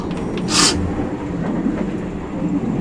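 A first-class overnight sleeper train to Bangkok rumbles steadily along the rails, a close, continuous low rolling noise with a short sharp hiss near the start.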